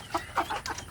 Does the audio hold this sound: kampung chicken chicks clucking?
yes